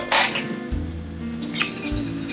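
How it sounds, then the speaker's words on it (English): A whisk clinks against a pot while stirring keto cheese sauce. A bright metallic clink opens the clip, followed by softer taps and scraping over a low background rumble, with no talking. "you're just going to want to whisk that in and start getting that heated up"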